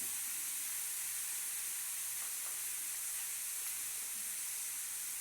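Onions fry in a pan with salt and turmeric for an egg omelette curry, giving a steady, close, continuous sizzling hiss with faint stirring scrapes and no talk.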